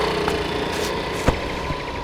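A vehicle engine idles steadily in a comedy scene, giving a continuous low rumbling hum with a couple of faint knocks and no voices over it.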